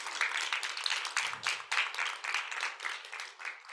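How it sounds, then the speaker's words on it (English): An audience applauds presenters at a science lightning-talk event, a sustained, even patter of many hands clapping at moderate distance, with no voices over it. "how about a round of applause again for our 6 presenters?"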